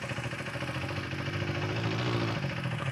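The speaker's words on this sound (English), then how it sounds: "This is what it sounds like at idle." A KTM 390 Adventure R motorcycle with stock exhaust idles steadily nearby with a rough, pulsing rumble that stays even throughout.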